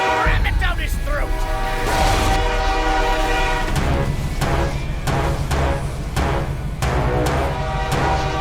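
The pain train weapon in the video game Sunset Overdrive blasts a loud train horn over rumbling, clattering rail noise, with sharp impact hits repeating and a voice shouting over it.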